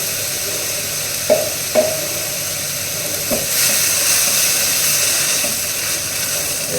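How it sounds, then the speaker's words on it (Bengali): Poppy seed and grated coconut paste goes into beetroot frying in a pan, with a few sharp scrapes and taps of stirring over a steady, soft sizzle that swells slightly partway through. "একটু দিয়ে দেবো পোস্ত আর নারকেল বাটা।"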